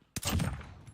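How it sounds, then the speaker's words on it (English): A single sharp M1 Garand rifle shot fires in Call of Duty Warzone, with a loud close crack followed by a short rumbling decay over about a second. "this is the M1 Garand"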